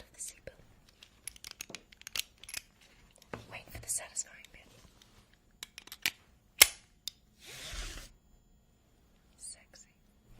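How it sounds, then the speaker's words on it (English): A vintage 1960s seatbelt being handled and buckled: sparse sharp clicks, metallic taps and rustles, with whispered speech in between and a brief louder burst near the end. "Here's the sound of the seatbelt."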